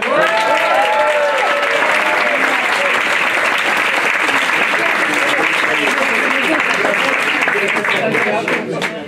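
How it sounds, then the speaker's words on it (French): Guests at a gastronomic chestnut-themed dinner in Isola applaud steadily for a birthday, a dense round of clapping with some voices and cheers mixed in before it fades at the end. "je vais vous demander d'applaudir également quelqu'un dont c'était l'anniversaire hier, Michel Gaïssa."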